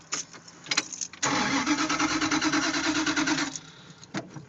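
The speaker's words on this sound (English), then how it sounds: "Let's see if it'll crank" A 1972 Dodge truck engine with no exhaust cranks briefly with clunks, then catches and rumbles at a rough, loud idle for a couple of seconds before cutting out, followed by a few knocks.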